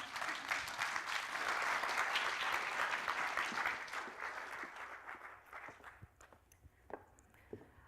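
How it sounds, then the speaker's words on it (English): An audience claps in a sustained burst of applause that swells, then thins out into scattered claps. "let's give her a nice round of applause"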